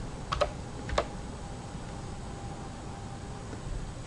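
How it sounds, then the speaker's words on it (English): A few quick, light key clicks near the start, then near silence with faint background hiss. "I would start by typing dividend"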